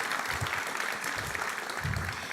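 Audience applause at an open-air summer theatre during a national opening ceremony, a steady wash of clapping lasting a couple of seconds at moderate loudness with no talk over it.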